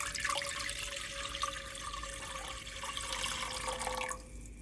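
Tap water runs steadily into a cooking pot on a stovetop, a continuous splashing pour that ends abruptly near the close, heard fairly faint and alone.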